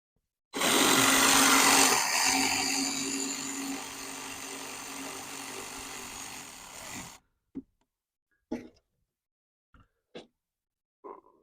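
A power tool removes 10 mm bolts on an L5P Duramax truck during a coolant leak repair. A close, loud whir runs for about six seconds and winds down, followed by a few sharp metallic clicks and knocks.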